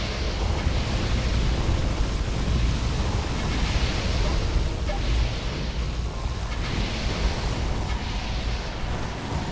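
Turret fire in the tower-defense game Defense Grid 2, a dense, continuous roar of blasts and rumbling explosions that stays loud and steady throughout.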